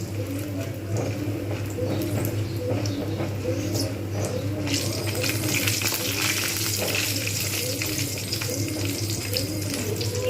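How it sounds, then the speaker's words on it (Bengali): Food frying in a pan until reddish gives a constant close sizzle with light stirring scrapes, and the hiss grows brighter and louder about halfway through, with no speech. "যতক্ষণ পর্যন্ত না লালচে হচ্ছে ততক্ষণ পর্যন্ত কিন্তু আমি এটাকে ভালো করে ভেজে নেব"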